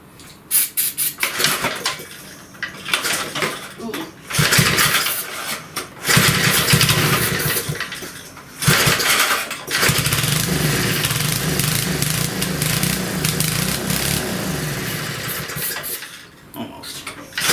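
A 40-year-old Briggs and Stratton small engine with no carburetor is cranked, sputtering in bursts and stalling, then catching and running steadily for several seconds, loud and close.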